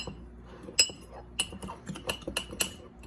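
A utensil scrapes and clinks against a mug while dry mug-cake ingredients are mixed with sugar for a Nutella mug cake: irregular sharp taps and scrapes, close and fairly quiet, in quick succession.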